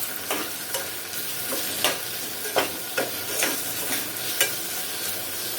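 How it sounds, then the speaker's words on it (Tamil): Onions and tomatoes sautéing in a pan, a continuous close sizzle broken by regular scraping strokes of a spoon stirring the mixture, with no voices. "அந்த 2 தக்காளியை சேர்த்து நல்லா வந்து வதக்கிக்கலாம்."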